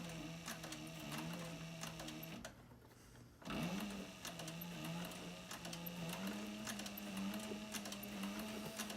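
A sewing machine runs steadily, stitching the seam of a dopp kit, with a sustained mechanical whir and rapid needle ticking that stops briefly partway through and then resumes.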